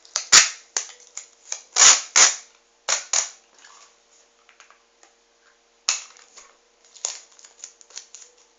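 Pieces of adhesive tape are ripped off a roll and wrapped around a finger bandage: a series of sharp, close tearing rasps in uneven bursts, with quieter crinkling and handling noises between them.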